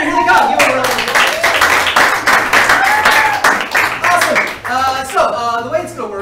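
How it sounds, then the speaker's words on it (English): Audience applause at an improv comedy show fills the room in a dense, steady wash of clapping, with voices and cheering mixed in over it throughout. "Give them a round of applause."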